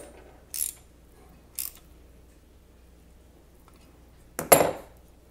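Parts of a Manhasset #48 music stand are tightened: two short metallic clicks, then a louder clank near the end, all close and sparse over a quiet background.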